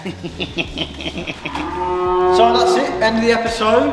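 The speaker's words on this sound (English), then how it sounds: "Excuse the cows." Cows moo loudly and close by near a farmyard, with long drawn-out lowing calls building and overlapping, while someone talks briefly at the start.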